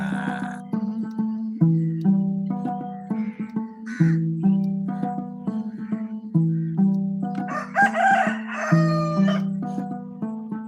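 Rooster crowing repeatedly, several loud, drawn-out calls with clucking in between, fairly close, over a steady droning tone.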